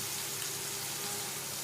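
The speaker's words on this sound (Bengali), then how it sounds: "মশলার সাথে ভালো করে মিশিয়ে নিচ্ছি দইটা।" Yogurt being stirred into spice masala frying in a pan for a Bengali jackfruit curry, giving a steady, soft sizzle with faint stirring, quiet and continuous with a small clatter at the end.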